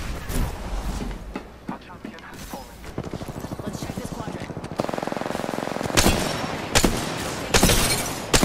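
Incoming gunfire in a video game: repeated bursts of automatic fire and sharp impacts, a dense rattling stretch followed by several louder cracks near the end, with voices talking underneath.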